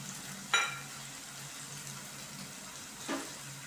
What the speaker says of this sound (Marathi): याला व्यवस्थित फिरून घेत आहे मी